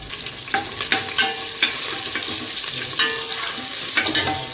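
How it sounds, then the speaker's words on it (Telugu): Cumin seeds, mustard seeds and green chillies frying in hot oil in a pressure cooker on low flame, a steady loud sizzle with scattered pops and crackles, close up and with no talking. "నూనె బాగా కాగినాక స్టవ్ని లో ఫ్లేమ్లోకి తీసుకొని జీలకర్ర ఆవాలు పచ్చిమిర్చి"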